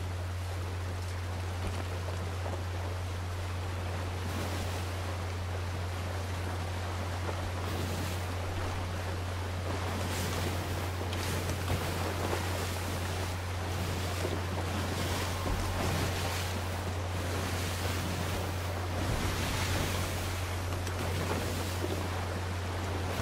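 Ocean waves around a sailing ship in the pirate game Sea of Thieves: continuous loud wash of surf and wind with a steady low hum underneath, no talk.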